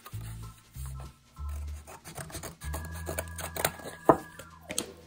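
Scissors snip and rasp through the plastic packaging around a treasure chest bath bomb, several close separate cuts with crinkling and scraping between them.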